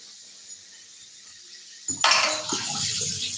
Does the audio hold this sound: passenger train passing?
no